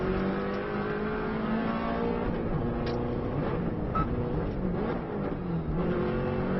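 A Subaru rally car running flat out along the Isle of Man road course, its engine roaring loudly and continuously at high revs with a dense, sustained drone and no talk.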